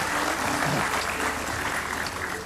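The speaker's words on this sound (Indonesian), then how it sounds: "Kasih tepuk tangan sekali lagi buat Demian." A studio audience applauds a magician, a dense, loud, continuous wash of clapping that holds steady from start to finish.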